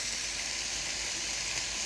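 Beans sizzling in a skillet with taco seasoning, a steady hissing fry that stays even and close throughout with no talking.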